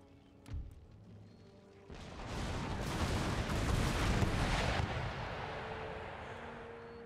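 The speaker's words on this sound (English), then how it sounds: "the mortars just keep dropping quicklime on that section above the gate" Mortar fire in Empire: Total War during a siege, with one sharp distant thump followed by a long broad rumbling roar of impacts and explosions that swells and slowly fades.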